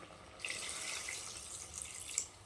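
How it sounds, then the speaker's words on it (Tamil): A steady stream of water pours and splashes into a cooking pot of mutton chukka for a couple of seconds, soft and close, with no voices. "இப்போ நம்ம கொஞ்சமாக தண்ணி சேர்த்துக்கலாம்"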